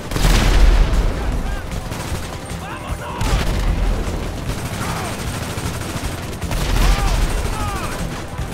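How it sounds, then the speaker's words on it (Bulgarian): Video game gunfire in GTA V Online rattles in dense bursts and booms throughout, loud and continuous, while players talk over the shooting. "Трябва да стреляш, давай. Стреляй, иначе ще изпишчи си АФК, бе."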